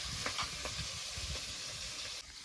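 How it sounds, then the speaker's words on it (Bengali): Boal fish sizzles and crackles steadily in hot oil in a pan, close by, with a few soft scraping stirs. "এবার উল্টিয়ে পাল্টিয়ে ভেজে নেব"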